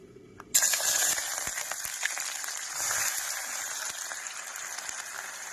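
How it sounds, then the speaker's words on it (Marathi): Onion dropped into very hot oil in a pan sets off a sudden loud sizzle that keeps crackling and hissing steadily up close, with no talking. "आता मी टाकून घेते कांदा"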